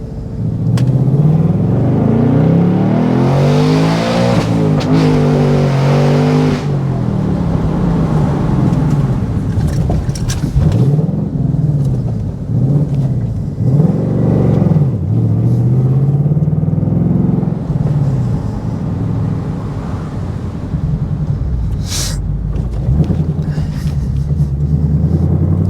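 A loud 2023 Ford Mustang GT engine revs and rumbles repeatedly in track mode, the exhaust note rising and falling through several throttle blips, with no talking.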